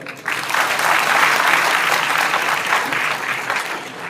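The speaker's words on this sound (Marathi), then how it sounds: "सर्वप्रथम आपण उदयजी सामंत यांचं स्वागत करूया सर्वांनी टाळ्या वाजवून" An audience at a public interview event in Ratnagiri claps to welcome Uday Samant, a dense burst of applause that starts abruptly, holds strong for about three seconds, then eases off slightly.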